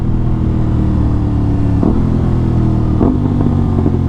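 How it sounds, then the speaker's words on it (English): A 2021 Aprilia RS660 motorcycle engine heard loud and close from the rider's position, a steady throaty drone broken by two quick rev blips as it downshifts. "Oh, those downshifts are really nice."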